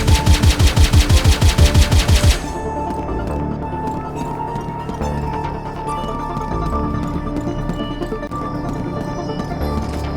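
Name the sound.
turret machine-gun fire in a video game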